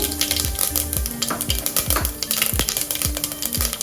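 Mustard and cumin seeds spluttering in hot oil, loud crackling pops and sharp snaps bursting in quick irregular succession, close up and continuous with no talking.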